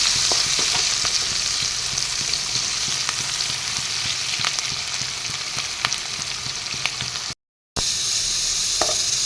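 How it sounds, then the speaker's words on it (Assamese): Chopped onions and green chilies frying in hot oil in a pan, a steady close sizzle with occasional stirring clicks, briefly cutting out near the end before resuming. "মই এতিয়া কাটি থোৱা পিঁয়াজ আৰু জলকীয়া কেইটা দি ল'ম। পিঁয়াজখিনি অলপ ৰঙচঙীয়া কৰি ল'ম।"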